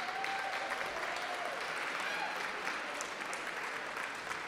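An awards-ceremony audience gives a round of applause for a performing group, a continuous, full crowd clapping that stays even and loud throughout, with some cheering mixed in.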